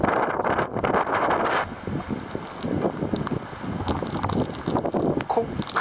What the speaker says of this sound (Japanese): すごい風です。